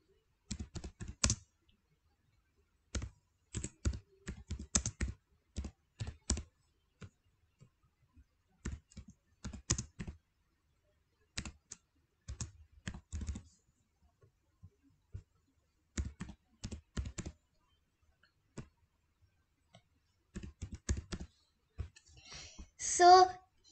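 Keyboard keys typed in quick bursts of close, crisp clicks with pauses between, while entering a question and answer options in a Kahoot quiz setup, alone with no talk.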